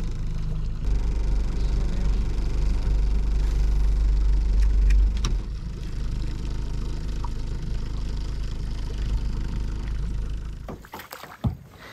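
A boat motor on a lake shifts between forward and neutral, a loud, steady low drone that eases slightly about midway and then cuts out near the end amid close handling noises.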